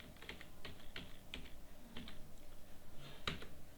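Quiet typing on a computer keyboard, with irregular soft key clicks and short bursts of strokes going on steadily, close by but faint, with no voices.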